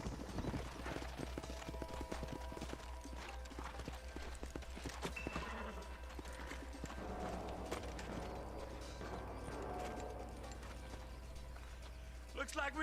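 Horses' hooves clip-clopping in the video game Red Dead Redemption, a quick rhythmic trot of several mounts up close under character dialogue, with a whinny and game sounds mixed in.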